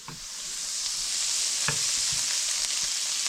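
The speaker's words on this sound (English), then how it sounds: "we got about a medium heat going right now. With the mushrooms sitting over here in the pan" Chanterelle mushrooms sizzle steadily in a pan over medium heat, a loud, continuous hiss with a few small pops and stirring clicks, with no voices.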